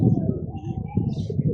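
Prize racing pigeons coo in low, soft murmurs close by, partly buried under someone talking steadily.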